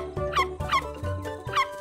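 A cartoon dog in a children's wildlife-ranger animation gives three short, bright barks or yips, evenly spaced and close, over a steady music bed.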